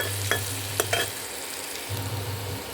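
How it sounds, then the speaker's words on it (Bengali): Potatoes and pumpkin fry with ground spices in a pan, giving a low steady sizzle with a few sharp stirring clinks and scrapes, close up and with no talk. "আর এবার একটু ভালো করে ভেজে নেব এতে তো শুধু গুঁড়ো মশলা দিতে হয়"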